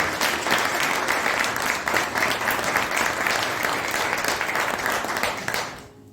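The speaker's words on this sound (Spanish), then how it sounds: "Denle un aplauso al Espíritu Santo." Congregation applause during a Spanish-language church sermon, clapping for the Holy Spirit; dense, loud, sustained clapping from many hands that fades quickly at the very end.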